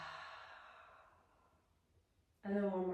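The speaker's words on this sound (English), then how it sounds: "Maybe a full breath in through your nose. Exhale out from the mouth." A long, soft exhale out through the mouth during a guided breathing exercise, fading gradually to quiet before a fresh breath begins near the end, close and unhurried.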